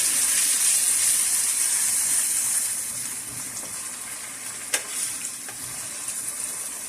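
Onions and whole spices fry in a pan for matar keema, a loud, bright, continuous sizzle that eases a little after a few seconds, with a faint click of stirring.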